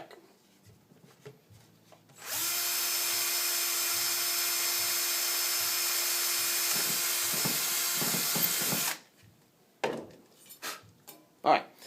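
A power drill runs steadily for several seconds, drilling a hole in a Printrbot bed part with a loud, even whine, followed by scattered clatter and handling noises once it stops.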